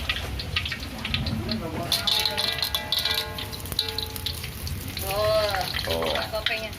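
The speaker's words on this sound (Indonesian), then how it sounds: "Goreng kerupuk." Kerupuk crackers frying in hot oil, a steady sizzle and crackle that runs throughout, with voices talking over it near the end.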